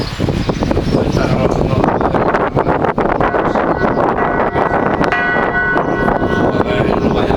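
Church bells ring in the bell tower at Soneja, one of five bells at full swing, with loud, close, overlapping clangs repeating steadily throughout. Wind buffets the microphone, and voices are faintly present.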